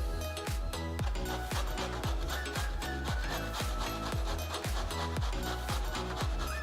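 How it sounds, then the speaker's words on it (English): Bottle gourd rubbed over a medium kitchen grater gives rhythmic rasping scrapes, about two strokes per second, close and steady, with no talk. "I'm using the medium grater to grate the vegetable."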